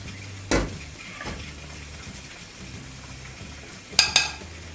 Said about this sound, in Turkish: Karıştırıyorum terbiyemi.